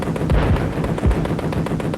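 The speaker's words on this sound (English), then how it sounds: "Perhaps one of the most important advances in mechanized weaponry was the machine gun." Rapid bursts of machine gun fire, loud and dense, with several heavy low thuds breaking through a continuous rattling roar over about two seconds.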